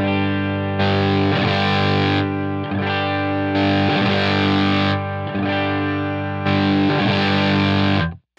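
Electric guitar played through a Line 6 Helix preset snapshot with a distorted, effects-laden tone: loud sustained chords repeat in bursts with short gaps between them, then cut off abruptly at the end.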